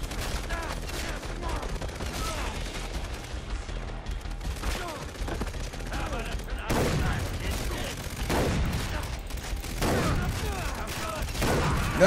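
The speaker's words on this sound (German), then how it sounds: "3-4 Schüsse mit der Schrotflinte in die Schnauze" Shotgun blasts in the Far Cry 3 video game ring out as several sharp, loud bursts spaced across the stretch, mixed with other gunfire, game noise and occasional talk.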